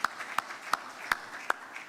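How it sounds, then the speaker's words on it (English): Audience at the opening keynote session of a conference gives a round of applause, heard as a few sharp, evenly spaced claps at moderate distance rather than a dense ovation. "Can we give them a round of applause before they're seated?"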